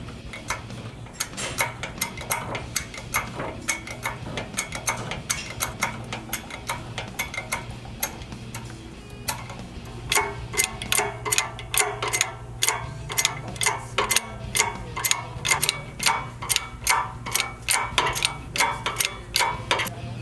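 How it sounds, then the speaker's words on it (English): A new wheel bearing is pressed into an axle hub with a press, using an old outer race as a driver. Repeated close mechanical clicks and ratcheting ticks keep a steady rhythm and grow louder in the second half. No talk. "So we're using an old outer race from a different bearing to press a new bearing in."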